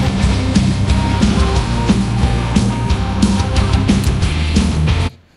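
Guitars isolated from a song by AI stem separation, heard as a dense, continuous wash of distorted, muddy mid-range tone that stays loud and smeared before cutting off abruptly near the end.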